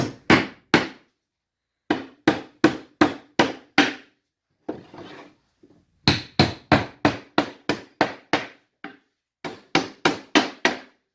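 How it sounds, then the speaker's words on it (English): Sharp hammer blows strike nails into wood while building a birdhouse, in quick rapid bursts separated by short pauses, loud and close. "Now you can drive your nails in."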